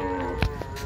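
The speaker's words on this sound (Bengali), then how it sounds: "শত শত গরু এক এক করে লাইন দিয়ে নামানো হচ্ছে।" Cattle moo at a river ghat while hundreds of cows are unloaded one by one in a line. A low, drawn-out bovine call sounds close over a steady background hum.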